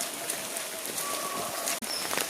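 Steady rain falls outdoors on a misty day, making an even, close hiss with a single brief break.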